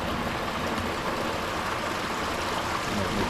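Fast-flowing woodland stream rushing steadily in a summer wood, a continuous broadband wash of white water close by, with no voices.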